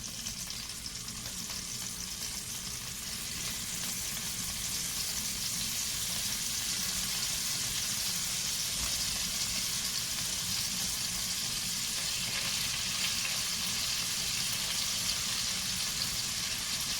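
Scallops sear in a hot pan, a steady dense sizzle and crackle of frying that holds near and loud for the whole stretch with no talk.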